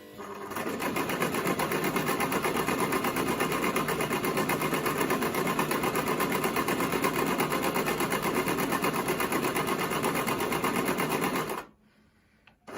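A Brother XL 5600 sewing machine set to stitch program 13 runs in one steady, loud, continuous buzz for about eleven seconds, then stops abruptly, leaving near silence.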